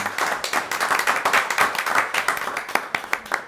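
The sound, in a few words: audience clapping at school board meeting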